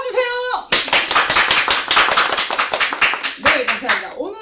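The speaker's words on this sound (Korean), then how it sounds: "여러분 박수 쳐주세요" A studio audience claps in a fast, steady burst of loud, close hand claps that runs for several seconds, with a speaker's voice just before and just after.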